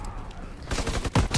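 Gunfire in Modern Warfare Remastered, shooting through a box at an enemy behind it: a rapid burst of loud, punchy shots rattling in quick succession after a quieter lead-in, with no talking.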